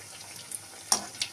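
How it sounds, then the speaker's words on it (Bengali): Sweet potato pithas fry slowly in oil: a quiet, brief sizzle broken by a few sharp pops and crackles. "ধীরে ধীরে রাঙা আলুর পিঠেগুলো ভেজে নিচ্ছে।"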